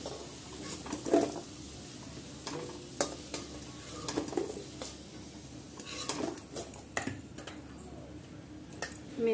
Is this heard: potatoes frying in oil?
yes